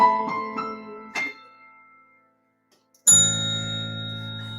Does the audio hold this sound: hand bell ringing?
yes